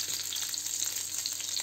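Burbot fish cutlets fry in a pan, giving a steady close sizzle and crackle of hot oil. The sound is short and even, with no voices.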